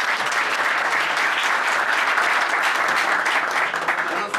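Loud, dense applause from an audience after a speech, sustained clapping from many hands throughout with some voices mixed into the crowd.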